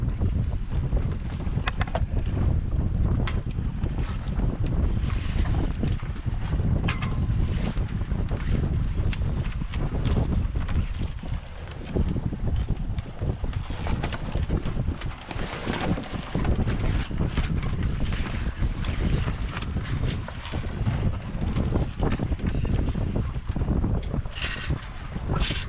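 Sailboat motor idling on Lake Okeechobee under steady wind buffeting the microphone, a constant low rumble and roar throughout with no voices.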